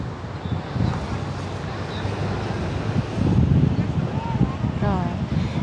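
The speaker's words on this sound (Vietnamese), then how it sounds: "Sóng đánh đẹp quá" Ocean surf breaking at Laguna Beach, a rumbling wash of waves mixed with wind buffeting the microphone, while people chat nearby and a seabird-like call rises faintly near the end.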